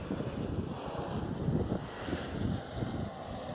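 An Embraer E190 jet airliner passes at Schiphol Amsterdam, a steady, fairly loud engine roar with rumbling low end and a faint whine above, no voices.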